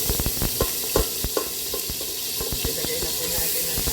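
Butter sizzles in a hot pan on a home stove before garlic and onion go in, a steady crackling hiss broken by sharp spattering pops and utensil clicks, close and fairly loud.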